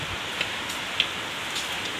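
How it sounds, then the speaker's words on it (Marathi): Steady rain falling on a Navratri festival pandal, a soft continuous patter with a few slightly louder drops, faint and without voices. "पाऊस चालू आहे"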